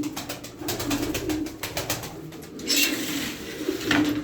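A female pigeon coos in soft, low, repeated calls close by, over a busy background of rustling and fluttering.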